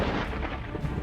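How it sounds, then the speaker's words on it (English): Thunder from a lightning strike on the ocean during a storm at the shoreline: a continuous, heavy, close rumble that holds steady at high loudness throughout. "Lightning strikes the water"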